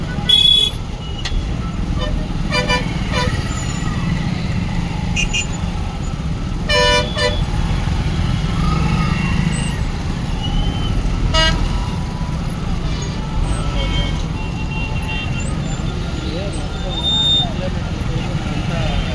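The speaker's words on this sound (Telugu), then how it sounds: "ట్రాఫిక్ జామ్ అయిపోయింది." Cars and trucks sit in a traffic jam, with scattered short honks and a few longer horn blasts over a rumbling engine background, while someone talks nearby throughout.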